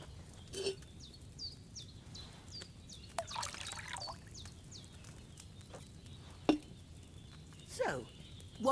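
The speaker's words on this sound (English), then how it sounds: "First, you have to pour the right base into the cauldron." Wine is poured into a cauldron in the video game Kingdom Come Deliverance II, making a faint, light trickle of liquid with scattered bird calls in the background.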